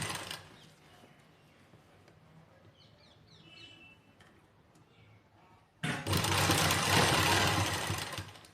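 Sewing machine stitching lace onto the edge of a dupatta, a sudden loud, steady whirring run in the final seconds after a quiet stretch with faint handling sounds.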